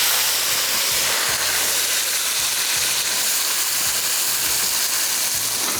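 Tomatoes hit hot oil in a karahi with a loud, steady sizzle and hiss that fills the whole stretch, close and continuous, with a faint rhythmic stirring thump underneath.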